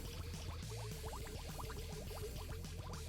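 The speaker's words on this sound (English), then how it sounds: "I don't know if y'all can hear that, but it's still bubbling" Liquid bubbling and gurgling steadily in a pail at a junkyard, a continuous soft boil with small popping bursts, fairly quiet and close, with no talking.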